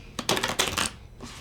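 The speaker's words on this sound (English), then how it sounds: "So I'm just gonna shuffle the cards." Riffle shuffle of a deck of cards before a card-based party game, two quick bursts of rapid fluttering clicks followed by a softer, shorter patter, close and fairly quiet.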